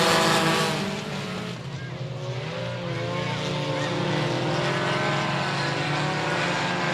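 Race cars roar down the front straightaway at I-37 Speedway, a loud sustained engine drone with layered overlapping motors passing close, slightly dipping then holding steady throughout.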